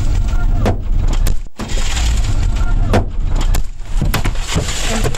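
Stones strike a car during an attack on a convoy, thudding and cracking in repeated impacts amid loud, chaotic crowd noise with sharp bangs scattered throughout.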